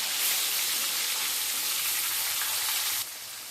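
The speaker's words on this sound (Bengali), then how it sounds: "তো সব মাছগুলোকে উল্টে পাল্টে ভালো করে ভেজে নেবো।" A batch of tilapia fish sizzles in mustard oil in a large wok, a dense, steady crackle heard up close. It drops slightly in level near the end.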